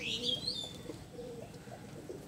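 Pigeons coo softly in a few low, rounded calls, with a brief high chirp at the start, all quiet against faint background noise.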